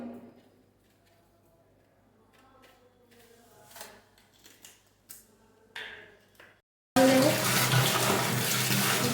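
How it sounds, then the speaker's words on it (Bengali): Water being added into an autoclave drum comes first as soft, scattered splashes and trickles, then a sudden loud, steady rushing pour fills the final seconds. "এটার মধ্যে আবার জল মেশাতে হবে, একটু জল কম আছে।"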